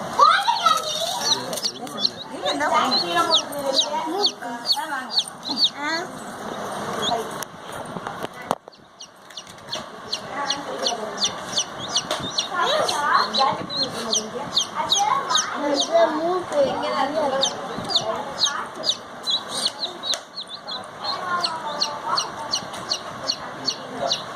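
A hen clucks repeatedly while newly hatched chicks peep in quick, high, continuous bursts nearby, with people talking intermittently in the background.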